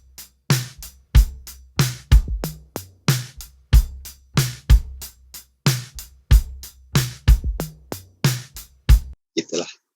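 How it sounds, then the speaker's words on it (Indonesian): Drum pattern played in a steady groove, with punchy kick thuds and sharp snare and hi-hat hits repeating in a regular rhythm, fairly loud and up close, ending with a brief faint shimmer. "Jadi kalau drum biasanya kan bunyinya begini."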